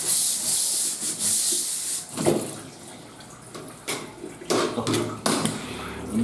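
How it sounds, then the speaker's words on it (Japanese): A cutting board is washed and scrubbed before raw fish is sliced for sashimi. Bursts of rubbing and scrubbing alternate with running or splashing water, close and fairly loud, with no one speaking. "刺身を切る前にはまな板をよく洗って、"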